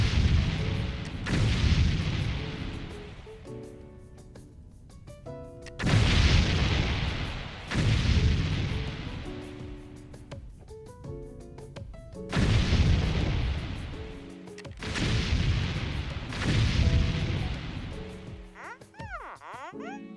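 Repeated heavy explosions from structures being destroyed in the fully destructible voxel factory game Foundry, deep booming blasts rolling out in bursts about every two seconds, loud and close, with fading debris rumble between them.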